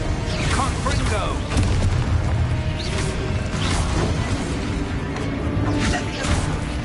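Confringo fire-blast spell in the Hogwarts Legacy video game, a loud, dense stretch of booming blasts and crashing impacts in combat, with whooshing spell sounds and voices throughout.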